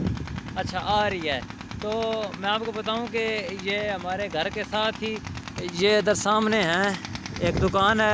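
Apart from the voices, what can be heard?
flour mill (atta chakki) running at nearby shop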